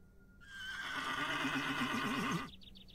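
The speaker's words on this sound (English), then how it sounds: "Somebody tether a horse in here." A horse in a video game neighs once, a loud whinny lasting about two seconds with a wavering pitch that fades out, followed by faint clip-clop-like taps.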